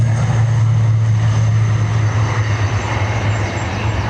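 A Ryanair airliner arriving at Dublin Airport in crosswind, a steady low engine drone with a broad rushing roar, loud and continuous throughout, slowly fading slightly toward the end.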